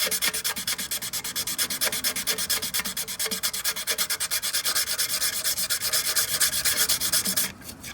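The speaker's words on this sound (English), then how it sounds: "320 grit sandpaper. And you're just gonna go around, because it's not perfectly smooth." A VW Mk1 diesel water pump mating surface is hand-sanded with 320 grit sandpaper, making fast rhythmic rubbing strokes close up and loud, continuing steadily before easing off at the end.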